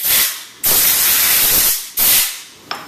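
Compressed-air gun blasting out parts of a Frantz magnetic separator, loud hissing bursts of air, three long blasts separated by brief pauses and ending with a short click.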